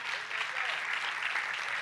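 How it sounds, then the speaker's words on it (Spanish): Steady, dense applause fills the whole short stretch, a church audience clapping continuously at even loudness. "Si me quieren aplaudir, me pueden aplaudir"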